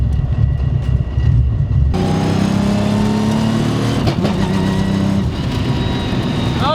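A 1000 HP Toyota Supra tuner car with a sequential gearbox, its engine idling loud and close, then jumping into a strong sustained rev that rises and falls, with no talk over it.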